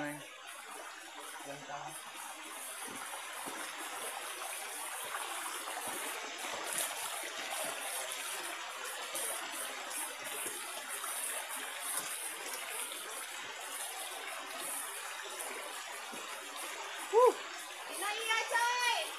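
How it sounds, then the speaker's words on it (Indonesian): A river stream in the mountains of Seram, Maluku, flows steadily while hikers wade across, with splashing and occasional voices over the constant rush of water, and a few sharper splashes near the end. "Melewati aliran sungai"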